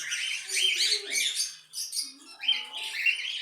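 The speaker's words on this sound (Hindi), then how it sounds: "और ये देखिए ये बजरी तोते रोटियां कितने शौक़ से खा रहे हैं" Budgerigars kept in an enclosure chirp in quick, bright bursts while eating roti, the twittering close and fairly loud with brief pauses.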